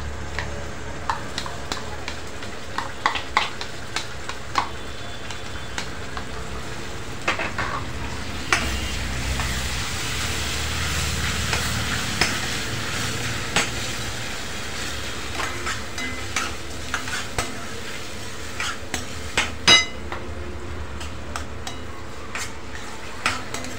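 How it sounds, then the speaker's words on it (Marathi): Finely chopped and pureed tomatoes sauté for pav bhaji, a steady close sizzle broken by repeated metal spatula scrapes and clinks against the pan, with a louder stretch of frying in the middle. "छान परतून घ्यायचं आपल्याला."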